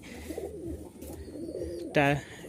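Giribaz pigeons coo in a loft, a low soft cooing murmur at first and then one louder close coo near the end, with faint background noise.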